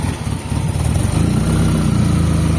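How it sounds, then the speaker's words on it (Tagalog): An engine runs steadily after starting, a continuous mid-pitched idle rumble with a throbbing low end, close and fairly loud, with no talking over it. "Yan mga bossing, andar na yung makina natin mga boss."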